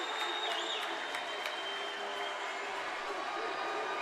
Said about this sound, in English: Now they're trying to fire up the crowd.